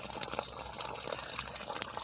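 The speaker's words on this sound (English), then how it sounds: "we're going to see if we can increase the water flow by back flushing it" Water rushing steadily through a garden hose during back flushing of a hose reel setup, a continuous hissing gush that stays fairly even and close throughout with no talk.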